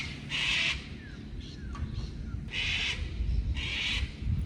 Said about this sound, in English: Cockatoo's reiterating that.